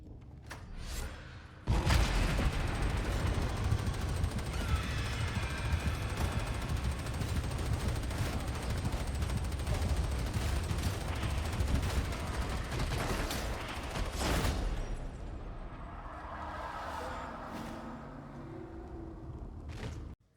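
Ranged weapon gunfire from Warhammer 40k: Darktide bursts in as a dense, loud, nearly continuous barrage for about twelve seconds, then cuts off to quieter game ambience.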